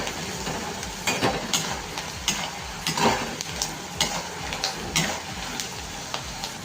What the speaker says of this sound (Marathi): छान तळून घ्यायचे शेंगदाणे पहिले.